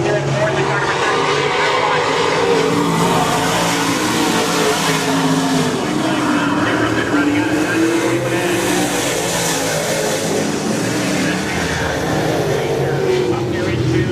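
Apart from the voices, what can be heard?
race cars racing on oval at Crystal Motor Speedway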